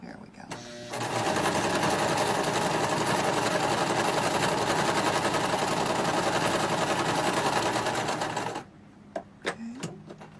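A home sewing machine stitches cotton fabric layered with fleece for a small glasses case, running in one steady, fast mechanical whir for about eight seconds. It then stops, and a few soft clicks and handling taps follow.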